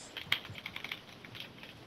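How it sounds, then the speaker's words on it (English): Close keyboard keys tapping rapidly during a keyboard-and-mouse shooter match at 5AM, an uneven run of light clicks, faint and without talk. "I hear them buttons tapping, boy."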